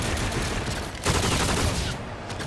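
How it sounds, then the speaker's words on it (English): Enemy bombardment in Call of Duty Infinite Warfare multiplayer: dense, loud bursts of rapid gunfire and impacts pound without pause, swelling stronger halfway through. "Enemy bombardment"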